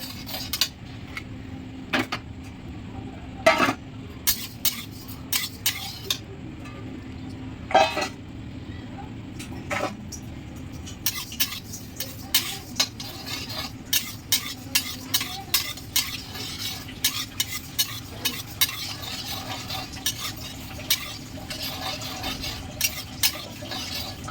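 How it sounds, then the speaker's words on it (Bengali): Moong dal dry-roasting in a hot, empty kadai, with repeated scraping and stirring clinks from a spatula against the metal and a faint steady hiss underneath, continuing close and moderately loud throughout. "গরম কড়াইতে হালকা করে একটু ভেজে নিয়েছি"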